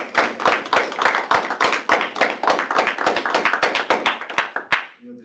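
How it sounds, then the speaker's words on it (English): A small group clapping at a student senate general assembly meeting, distinct individual claps in a brisk, fairly close rhythm that thins out and stops abruptly near the end. "we can give her a round of applause"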